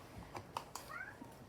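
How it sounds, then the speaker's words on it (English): Faint cat meows from behind a door indoors, a short rising cry among soft tapping and room noise, quiet and somewhat distant. "you can hear the cat meowing at my door."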